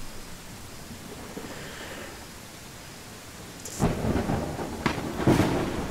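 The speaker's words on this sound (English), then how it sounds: "Oh great, we've got a thunderstorm." A thunderstorm in the Viking city-building game Land of the Vikings: steady rain hiss throughout, then rolling thunder claps that break in loudly over the second half.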